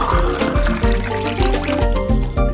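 Cold water pouring into a glass, a steady liquid fill with gurgling, splashing texture running close and continuous for the whole stretch.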